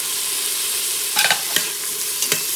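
Chopped tomatoes are stirred into sizzling dal tadka in an Instant Pot, giving close, steady frying hiss broken by a few quick spoon scrapes and clacks.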